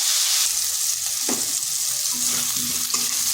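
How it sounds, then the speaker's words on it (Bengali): Pumpkin and potato pieces frying in hot oil in an open pan, a steady close sizzle broken by a few spatula scrapes and stirs. "3 থেকে 4 মিনিট এভাবে ভেজে নিচ্ছি"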